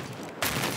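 Gunfire and explosions from the video game Battlefield on PC, a muffled rumble that suddenly bursts into a loud, dense blast of firing.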